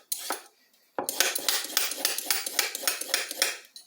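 A Y peeler scrapes down a small carrot in quick repeated strokes. After one early pass and a brief pause, a steady run of rhythmic rasping swipes follows, close and fairly loud, with no voices.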